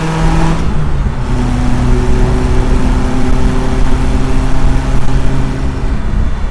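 Supercharged Subaru Sambar kei truck engine revving hard, a loud, steady, buzzing drone held near the microphone throughout, with sustained engine tones and no voices.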